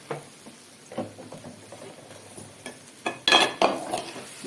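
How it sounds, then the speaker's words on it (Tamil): Mango coconut rice being stirred by hand or spoon with raw sesame oil: soft, scattered scrapes and light utensil clicks, quiet and close, with a couple of louder, busier mixing bursts near the end. "பச்சை நல்லெண்ணெய் விட்டு இது நல்லா ஈவனாக மிக்ஸ் ஆகிற அளவுக்கு நல்லா இந்தமாரி கலக்கணும்."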